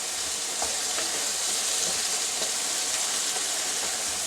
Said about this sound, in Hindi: सुरख मिर्च और हल्दी डालकर इसको थोड़ी देर फ्राई करूँगी